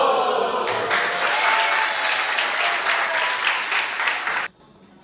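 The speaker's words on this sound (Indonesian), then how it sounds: "Mari kita beri tepuk salut." A classroom of students claps together in a broad, dense wash of applause that stays steady for about four seconds and then cuts off abruptly, leaving a quiet room.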